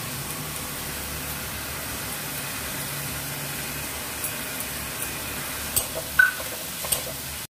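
Poppy seed paste with chatu is stirred in a pan, giving a soft, steady sizzle with a few faint scrapes and clinks toward the end and no talking.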